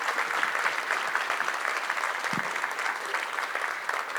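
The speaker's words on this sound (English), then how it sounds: "Let's give Peter and Ben a big round of applause." Steady applause from a large audience at a Chamber of Commerce luncheon in Hawaii, dense clapping sustained throughout at an even level.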